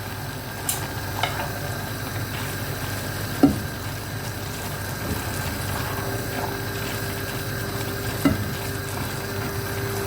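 Cabbage filling with a pinch of citric acid stirred in a frying pan: soft scraping and clinking strokes with a few sharp knocks against the pan over a steady low sizzle, close and fairly quiet.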